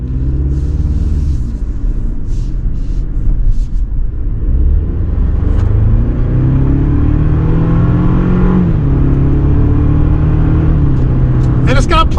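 The turbocharged four-cylinder engine of a Toyota Tacoma SR5 4x4 pulls hard under acceleration, a loud, steady drone whose pitch climbs and shifts between gears, with road rumble underneath.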